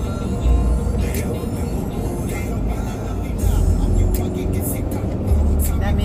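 Busy multi-lane traffic on Highway 401, with cars streaming steadily past at speed and a few louder passes swelling up through a constant broadband road roar.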